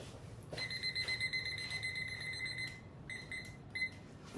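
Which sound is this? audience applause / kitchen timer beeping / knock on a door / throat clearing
kitchen timer beeping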